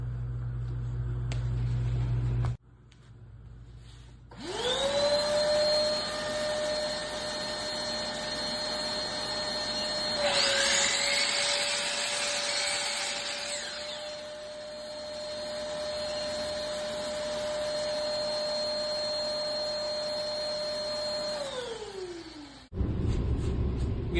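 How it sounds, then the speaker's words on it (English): A woodshop vacuum dust collector whines to life, runs with a steady loud drone that rises in pitch for a few seconds, then spins down and stops. "always make sure you're using the dust collection here in the vacuum"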